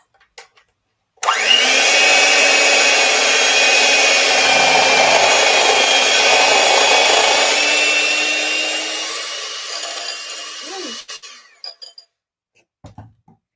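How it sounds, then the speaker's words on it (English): An electric whisk or mixer beats a cooled oil mixture in one steady, loud whirring run of about ten seconds, close up, then winds down into a few light clinks. "And then you'll whisk it."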